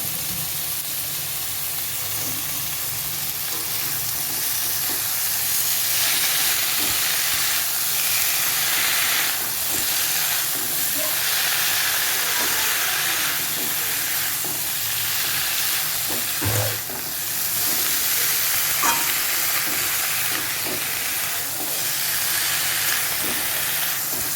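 Leafy greens sizzle steadily while frying in a pan, with soft stirring scrapes and bursts of hiss recurring over a continuous crackle.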